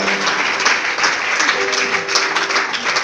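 A church congregation bursts into applause, a dense, bright wash of clapping hands that holds steady for a few seconds, with a voice speaking over it.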